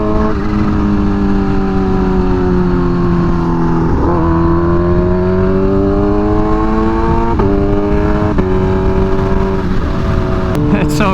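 Kawasaki Ninja H2 motorcycle with a performance tune pulling hard in third gear, its engine note climbing steadily with brief dips at shifts or throttle changes, loud and close throughout.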